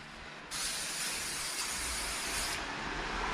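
Brake cleaner blasts onto a 2014 BMW F20 116d brake disc in one continuous loud, hissing spray of about two seconds, starting abruptly and cutting off sharply, over a faint low background hum.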